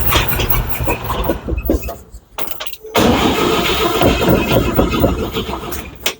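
A 1962 Chevrolet C20 pickup engine cranks hard and loud near the mic, the starter churning in two bursts around a short pause as it struggles to catch on poor fuel.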